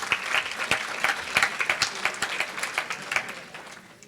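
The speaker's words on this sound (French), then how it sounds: "On peut applaudir Philippe." A room full of people applauding, a steady patter of many hands clapping at moderate volume that thins out toward the end.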